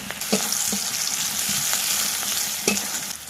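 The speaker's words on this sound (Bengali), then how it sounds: "কালো জিরা শুকনো লঙ্কা ফোড়ন দিয়ে পেঁয়াজ রসুন কচি দিয়ে দিলাম" Onion and garlic sizzling in a pan with black cumin and dried chili tempering, a loud continuous close frying hiss broken by several sharp spatula stirs and clicks, no voices.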